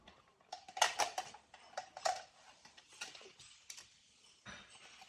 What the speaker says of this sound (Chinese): 这个螺丝松开